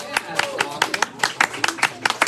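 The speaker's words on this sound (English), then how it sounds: "Mostly clapping for Haley, of course." An audience claps in honour of Haley after the arrival of her new baby, Ayla, with scattered uneven claps close by and overlapping voices.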